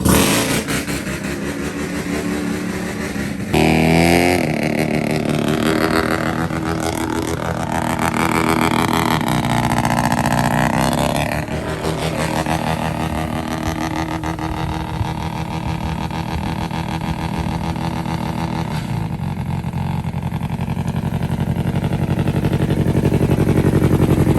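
A Mazda 13B REW rotary engine in a REPU pickup with a dead coil and broken transmission is pull-started by another vehicle, giving a loud, continuous roar of engine noise that surges and shifts in pitch throughout, with no talk.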